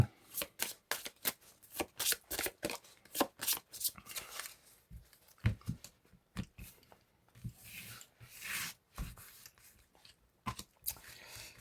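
A deck of cards is shuffled repeatedly by hand before five are drawn, giving bursts of crisp riffling and flicking in an irregular rhythm at close range.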